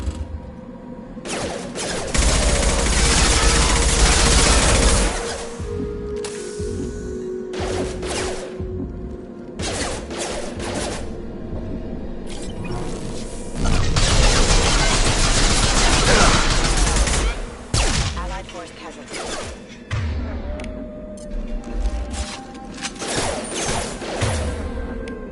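A Mass Effect 2 firefight: loud bursts of rapid gunfire come in long volleys separated by quieter stretches of scattered shots and mechanical clatter, close and dense throughout.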